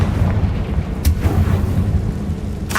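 A Confringo blasting spell goes off in Hogwarts Legacy, a fiery explosion with a rumbling low boom and a sharp burst near the middle, followed by another crack at the end.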